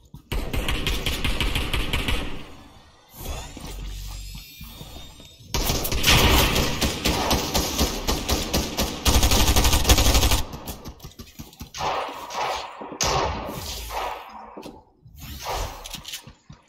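Gunfire in Fortnite Chapter 3 Season 3 Zero Build, rapid bursts of shots coming in loud waves with pauses between, mixed with game sound effects and some talking.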